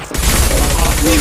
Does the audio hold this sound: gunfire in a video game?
yes